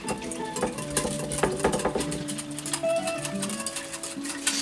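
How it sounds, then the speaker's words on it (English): Whisk mixing ingredients in a bowl, a quick run of light metallic clinks and taps against the bowl, faint and close, with no one talking. "grab your whisk, kind of mix that together"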